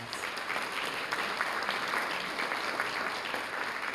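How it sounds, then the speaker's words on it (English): At a police department annual awards ceremony in Southfield, a crowd applauds in a thick, continuous wash of clapping that stays loud and steady from start to finish. "So please, one more time, give yourselves a round of applause"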